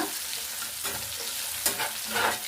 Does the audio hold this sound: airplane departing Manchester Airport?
no